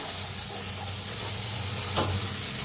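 Green chillies being stirred in a pan with garam masala and a little salt, giving a steady close sizzle with soft scraping throughout and one brief louder scrape near the end.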